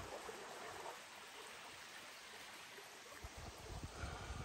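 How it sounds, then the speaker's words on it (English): A small waterfall on a hike in the Porcupine Mountains produces a faint, steady hiss of falling water. The wash is continuous and distant, with no voices over it. "A little baby waterfall."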